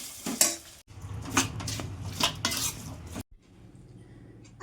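Mango pieces being stirred into a hot pan of garlic-fried pickle mix with the stove switched off, a few scraping utensil strokes and clinks against the pan, close and moderately loud, then a quieter settle at the end.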